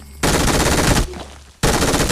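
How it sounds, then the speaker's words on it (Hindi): Sustained machine gun fire in the mobile battle royale game BGMI, two loud continuous automatic bursts separated by a short pause. "मैं निकालता हूँ मशीन गन"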